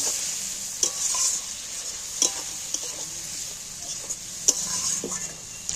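Spiced fish sautéing in a pan for a homemade chilli fish, with a steady sizzle of masala and spice-washing water, broken by several sharp clacks of a spatula scraping and stirring against the pan; close and fairly loud, no talking.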